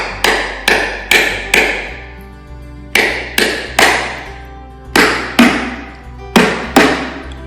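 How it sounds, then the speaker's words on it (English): Heavy cleaver tapping around a hard coconut until it cracks: sharp, loud knocks in quick clusters of two to four, each with a short ringing decay, repeated steadily and close up with no talking. "you just take a heavy knife like a cleaver and you just tap it around that"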